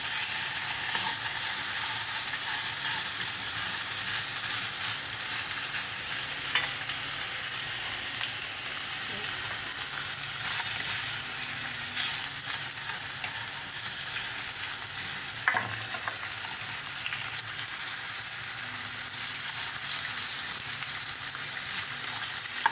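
Pork fat frying in a pan ahead of making sinigang, a steady close sizzle and hiss that runs unbroken for the whole stretch, with faint stirring scrapes here and there.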